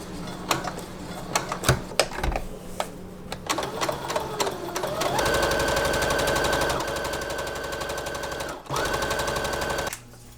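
A domestic sewing machine edge-stitches a drawstring channel on a summer top, starting with a few stuttering stitches and clicks, then running in a fast, steady buzzing whir, pausing once before resuming and stopping at the end.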